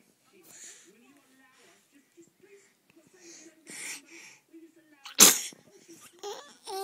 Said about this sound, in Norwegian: Nøs du?